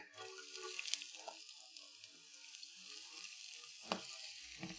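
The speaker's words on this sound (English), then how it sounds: "So we're going to take some Nopales and put it in the pan" Nopales cooking in a pan, a quiet, fairly faint sizzle with small scattered pops and crackles over several seconds, no one speaking.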